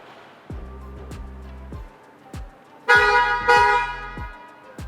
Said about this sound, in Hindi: ये बहुत ज़ोर का हॉर्न करती है, सुनिएगा।